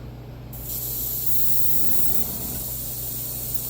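Airbrush spraying paint on low pressure onto a bluegill crankbait lure, a close, steady hiss that starts after a quiet half-second and holds evenly to the end, with no talking.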